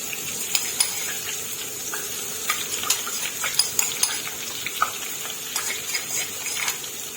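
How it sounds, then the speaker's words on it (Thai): Garlic frying in a hot wok for garlic-fried shrimp gives a steady, close sizzle with scattered crackles and pops, plus occasional light stirring clinks, no voices. "เดี๋ยวหนูจะเอากระเทียมมาเจียวค่ะ"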